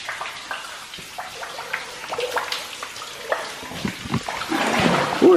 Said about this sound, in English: It's like a little waterfall right there.